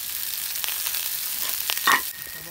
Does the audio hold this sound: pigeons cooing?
no